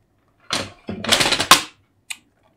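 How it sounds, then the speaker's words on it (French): A card label being cut on a paper trimmer for a handmade stamped card: a few dry, scraping slicing strokes close by, then a single short click, with no talk. "Ensuite, je vais venir découper"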